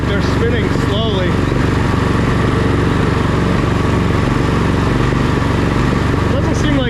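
A tractor engine runs steadily without revving up fully, a loud continuous close-up drone that holds throughout with people talking over it.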